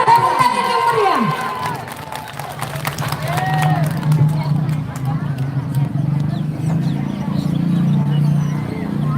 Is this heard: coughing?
no